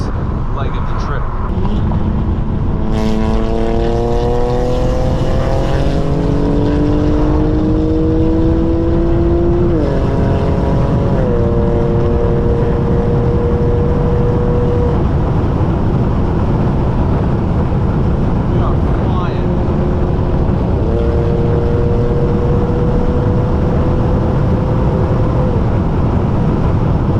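A BMW accelerates hard on a city-to-city road rally, its engine note climbing through several gear changes and then settling into a steady drone, loud and close, with heavy wind rush throughout.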